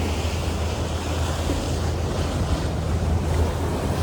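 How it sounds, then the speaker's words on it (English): A boat running across Lake Erie in a following sea, with a continuous rush of wind and water over a low engine rumble, loud and unbroken. "Boat's doing great. You can see we got a little bit of a following sea."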